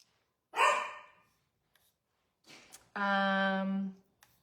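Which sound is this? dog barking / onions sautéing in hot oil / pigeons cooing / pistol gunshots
dog barking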